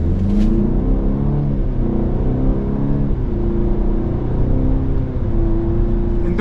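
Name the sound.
2024 Cadillac XT4 AWD SUV accelerating from a stop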